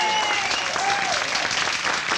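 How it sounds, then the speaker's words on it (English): Dense studio audience applause at a 1977 television cabaret show, continuous loud clapping throughout. "Let's give them another round of applause."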